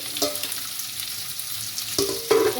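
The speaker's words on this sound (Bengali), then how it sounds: "পেঁয়াজটা ক্যাপসিকামটা মটরশুঁটিটা ভাজা ভাজা হোক" Onion, capsicum and green peas fry in a pan for a mushroom masala, giving a steady close sizzle with brief stirring scrapes and a couple of louder bursts near the end.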